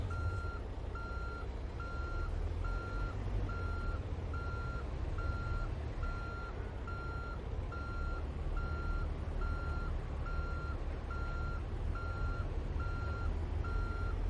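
Steady reversing alarm from a truck in American Truck Simulator, evenly spaced beeps repeating throughout over a constant low engine rumble, with no talking.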